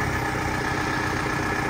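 A modified CJ jeep with a Mahindra DI turbo engine idles nearby, a steady, even rumble holding constant for the short stretch with no talking.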